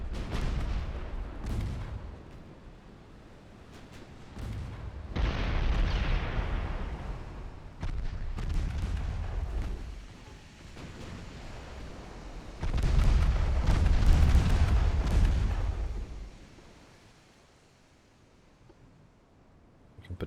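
Warship main guns firing in a naval strategy game set in 1903, heavy booming salvos in several separate bursts with rumbling tails, loud and close, with quieter gaps between volleys.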